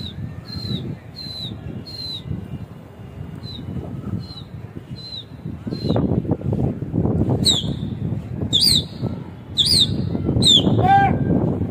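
Kasni pigeons in flight above a rooftop loft, wings fluttering and flapping in uneven bursts under wind noise, with a string of short high chirps early on and sharper bird calls crowding in toward the end.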